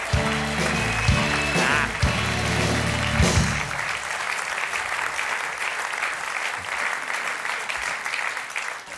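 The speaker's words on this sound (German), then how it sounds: "Schönen Abend noch und einen Applaus nach Worringen für unsere liebe Jürgen." A theatre audience at a Cologne puppet theatre performance claps in loud, dense applause, heaviest at the start and then settling into a steadier, slightly thinner patter, with music briefly sounding underneath early on.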